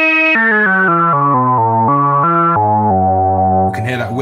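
Synthesizer tone in a Minimoog-style modular setup, its filter tracking pitch so the timbre follows each note, played as a stepped descending sequence of sustained notes, loud and alone, with a brief noisy burst at the end.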